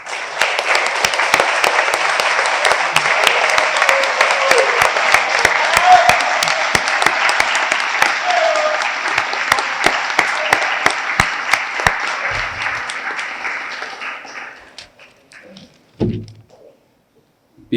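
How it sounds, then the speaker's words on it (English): Fire department members receive sustained audience applause at an awards ceremony, thick steady clapping with some sharp individual claps that fades out toward the end, followed by a couple of thumps. "let's give them a round of applause for what they do every day"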